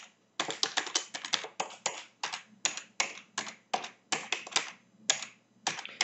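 Rapid typing on a computer keyboard while entering a web address, with a steady run of crisp, close key clicks in quick bursts and short pauses, loud and alone without talk.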